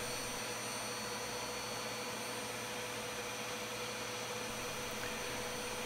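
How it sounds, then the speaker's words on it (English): Household vacuum cleaner running in hose mode, a steady whining hiss with a constant motor hum, even and unchanging throughout, fairly quiet and with no voices. "Get your house vacuum cleaner and set it to hose"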